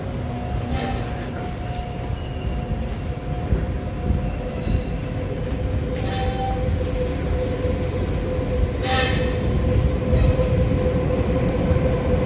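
A Vancouver SkyTrain train at a Millennium Line station, wheels squealing and rumbling steadily with a loud, continuous rail hum and brief high screeches throughout, no talking.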